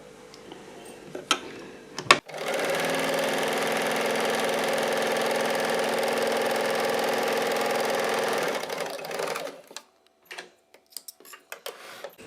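A sewing machine stitches piping onto a split half hand garment piece, running as a steady, loud mechanical whir for about six seconds after a sharp click, then stopping into scattered small handling clicks.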